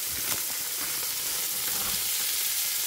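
Smoked pork belly lardons fry in a pan with a dense, continuous crackling sizzle, close and even throughout, with no voices.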